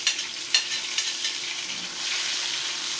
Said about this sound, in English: So here I have my oil and I'm going to add my onion, garlic and pimento.